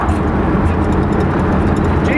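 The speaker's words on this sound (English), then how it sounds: "Finishing up on a 56 Chevy Bel Air test drive down in Fort Wayne, Indiana." A 1956 Chevrolet Bel Air with unrebuilt suspension cruising on a test drive in Fort Wayne, Indiana, giving a steady close road and engine rumble with no break across the short stretch.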